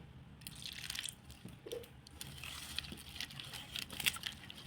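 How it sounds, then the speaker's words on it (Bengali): Water drips and trickles into a bowl of batter for drumstick flower fritters, a faint, quiet patter of small splashes spread over a few seconds with no talking. "আমি আর একটু ওর মধ্যে জল দিয়ে দেবো"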